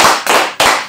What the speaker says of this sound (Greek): δώστε ένα τεράστιο χειροκρότημα για τον καλεσμένο